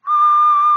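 A single clear, sustained whistled note, loud and close, held for under a second, imitating Negan's whistle from The Walking Dead.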